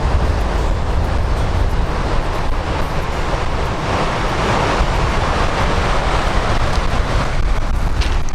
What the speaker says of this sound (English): It's starting to get a little windy now